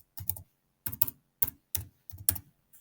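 Close computer keyboard typing, five short bursts of quick clustered keystrokes separated by brief pauses, with no talking.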